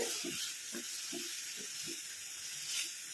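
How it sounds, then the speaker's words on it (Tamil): A spoon stirs a homemade natural hair dye mixture in a pot, giving a series of soft rhythmic scrapes, about five strokes, over a steady sizzling hiss. "இந்த மாதிரி நல்லா கிண்டி விட்டுட்டே இருக்கணும்"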